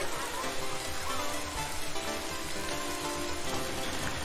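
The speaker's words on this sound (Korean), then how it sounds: "빗소리가 아주 시원해. 진짜 비 내리는 것같아" Steady rain in a strategy video game pours down continuously, a dense hiss of drops with a low rumbling layer beneath and faint tonal sounds underneath, no voices.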